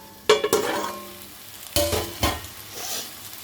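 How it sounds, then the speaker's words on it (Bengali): Taro fries with spices in mustard oil, with sharp scraping and clattering stirs over a soft sizzle in a few quick bursts, close and moderately loud. "মশলাটা দিয়ে আমি একটু কষিয়ে নিলাম।"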